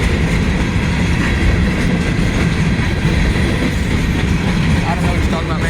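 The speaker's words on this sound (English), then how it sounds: "The train's gonna stop for sure." A southbound freight train passes in Bunkie, Louisiana with a loud, steady rumble and rattle of cars, close by and continuous, with faint squeals near the end and voices talking over it.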